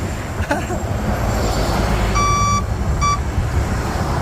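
A truck on a foggy road rumbles close behind, a broad low roar under two short, sharp electronic beeps near the end.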